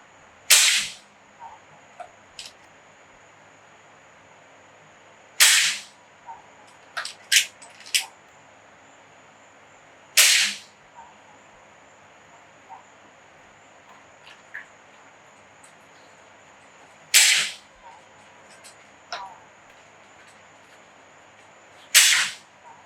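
An AEA Challenger Pro .30 caliber air rifle fires NSA 61.5-grain slugs at a 30-yard backyard range, five sharp loud cracks spaced several seconds apart, with faint clicks and handling noises between shots and no talking.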